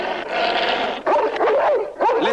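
A dog whimpers and whines in rising, wavering cries, with a few short yips, close and fairly loud, and no other voices.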